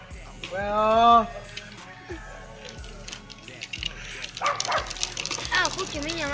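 A dog barks and yips loudly and close at the start, then quieter yelps and whimpers continue as a person talks over it in a noisy room.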